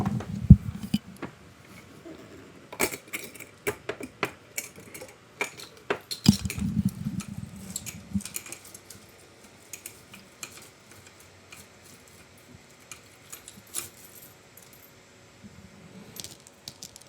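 Small metal charms clink and rattle as they are picked through by hand, bursts of light tinkling and tapping with quiet pauses between, close and fairly soft.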